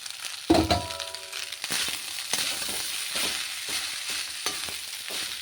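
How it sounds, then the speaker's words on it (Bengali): Rice with vegetables frying in a pan, a sharp clatter near the start followed by steady sizzling and repeated scraping stir strokes, close and moderately loud with no talk. "বাড়িতে ভাত থাকলে এইভাবে একটু সবজি দিয়ে ভাজা করে নেবেন"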